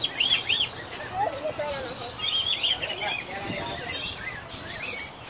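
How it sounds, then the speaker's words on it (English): A bird at a zoo chirps in short, high bursts while being fed, faint and scattered over steady background noise and nearby voices. "There's Sally feeding her bird"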